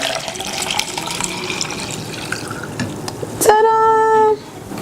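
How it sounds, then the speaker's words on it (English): Cold water running from a tap into a carafe for tea, a faint trickle followed by a louder, rising filling tone for about a second before it stops. "You're going to fill up your carafe halfway with this cold water."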